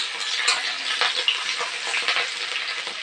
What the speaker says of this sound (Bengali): পেঁয়াজ আর লঙ্কাটাকে ভালো করে ভেজে নিতে হবে।